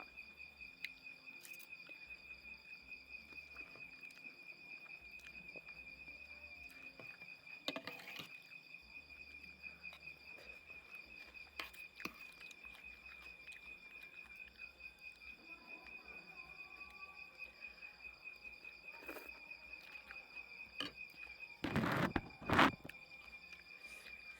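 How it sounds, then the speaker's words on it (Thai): Crickets chirp steadily outside a rural countryside house at night, a continuous high trill running through the whole stretch, with faint rustles and a couple of louder nearby knocks toward the end. "มีเสียงจิ้งหรีดร้องเจ้าเจ้าเจ้าด้วยค่ะ"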